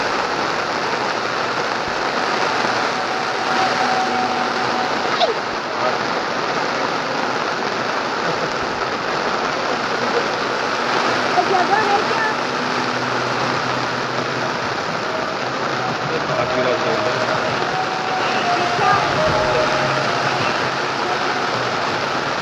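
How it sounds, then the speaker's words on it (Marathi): Torrential downpour at Govardhan, a dense, unbroken roar of heavy rain beating on surfaces with water streaming along the road, loud and steady throughout with no voices. "गोवर्धनचा पाऊस अनुभवायला मिळतोय. अतिशय मुसळधार."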